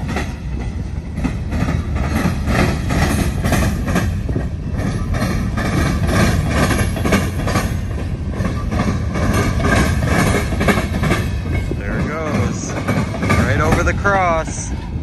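A Norfolk Southern freight train rolls past steadily, a continuous loud rumble with rhythmic clickety-clack of wheels over rail joints and some squealing near the end, while people talk over it.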